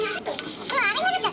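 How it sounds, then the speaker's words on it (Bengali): Chopped onions sizzle and crackle in hot oil in a pan, with steady frying noise and a brief stir, while a voice talks over it. "তার মধ্যে দিয়ে দেবো একটুখানি পেঁয়াজ কুচিটাকে ভালো করে ভেজে নিতে হবে।"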